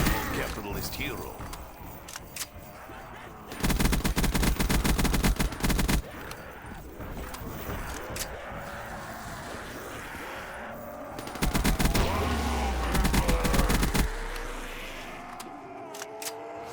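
STG assault rifle gunfire in a Call of Duty custom zombies map: loud bursts of automatic fire in two heavy volleys, with game music, effects and someone talking over it throughout.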